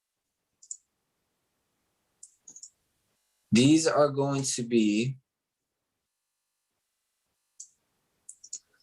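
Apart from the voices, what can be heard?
typing on a computer keyboard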